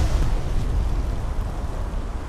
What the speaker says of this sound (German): Und jetzt muss ich weg davon, weil das explodiert gleich das verdammt.